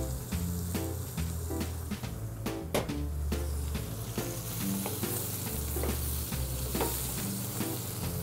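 Leeks and sun-dried tomatoes fry in oil in a pan, giving a steady, fairly loud sizzle with the clatter and scrape of stirring throughout and no voices.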